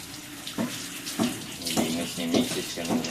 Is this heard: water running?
yes